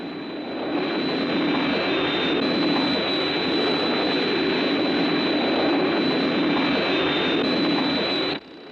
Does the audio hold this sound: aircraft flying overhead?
yes